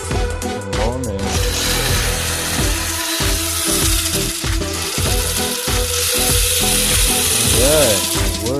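A small battery-powered RC motorcycle's electric motor whirs and ratchets after powering on, a busy mechanical buzz with repeated pulsing surges and a few gear-like chirps, loud and close throughout.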